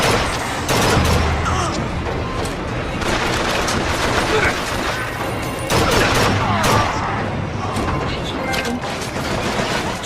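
Dense gunfire and booming blasts from the video game Bioshock Infinite pound on without pause for ten seconds, loud and chaotic, with shouting voices mixed into the battle noise.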